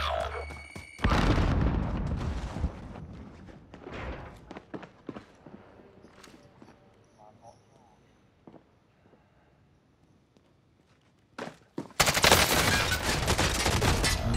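Gunfire in Call of Duty: Modern Warfare from a Mac-10 submachine gun. A sharp burst opens the clip, scattered single shots and thuds follow during a quieter stretch, and a sustained, loud, rapid-fire burst closes it.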